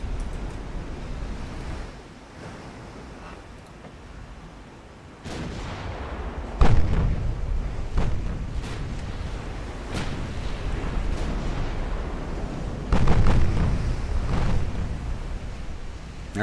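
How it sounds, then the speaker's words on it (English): Naval turret magazines cook off aboard an 1890s-era warship in Ultimate Admiral: Dreadnoughts, sending deep, loud booming blasts at uneven intervals over a steady wash of sea and wind. "only 2 turrets cooking off"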